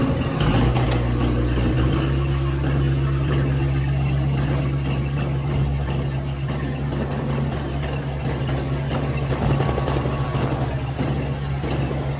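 A car engine runs steadily throughout, a continuous low rumble with a faint rising rev near the start, loud and close with no talking over it.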